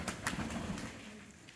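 Pigeons cooing at a pigeon fancier's home in Quva, Fergana, Uzbekistan, with a few soft, low coos fading over a quiet background, faint and somewhat distant.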